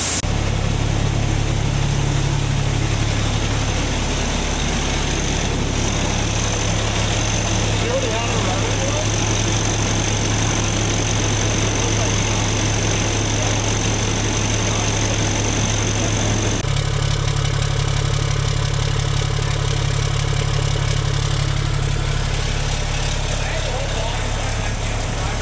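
Engine idling steadily just after a repair on a diverter skid, with an exhaust leak, a constant loud low rumble with a hissing, raspy edge, and a voice talking over it.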